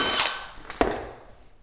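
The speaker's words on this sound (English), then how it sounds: "I'm going to drill this top hole" Power drill boring a shelf pin hole in closet cabinetry, a short whir followed by a sharp click and a fading spin-down, close and moderately loud.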